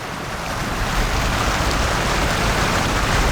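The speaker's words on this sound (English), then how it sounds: "Cutting through that water pretty good." A boat driven by electric motors cuts through open water, making a loud, steady rush of water and spray that continues without a break.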